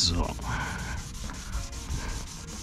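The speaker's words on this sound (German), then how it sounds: "Werden wir jetzt mal ein bisschen überschleifen" A scratch in motorcycle paint is wet sanded by hand with steady back-and-forth rubbing strokes, soft and close, in a regular rhythm.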